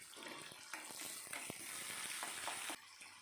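Cumin seeds and a little fenugreek spluttering in hot oil for sambar tempering, a faint continuous sizzle with scattered small pops, cutting off abruptly near the end.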